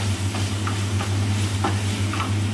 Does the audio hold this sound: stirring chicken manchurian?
yes